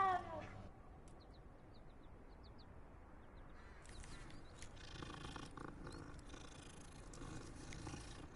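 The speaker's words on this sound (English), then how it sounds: "Another cat." A cat in the video game Hogwarts Legacy gives a brief meow at the start and then a faint purr. The sounds are quiet and set against soft in-game ambience and scattered clicks, with no talking.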